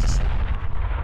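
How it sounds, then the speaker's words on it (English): Cannon blasting in a Skibidi Toilet animation, one loud, heavy boom with deep low-end rumble filling the whole second, close and alone without talk. "That dude with a cannon."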